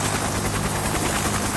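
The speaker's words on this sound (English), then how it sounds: "an emergency helicopter is being dispatched momentarily" Cartoon sound effect of a helicopter lifting off, a loud, continuous rotor chop with rapid, even beating throughout the short burst.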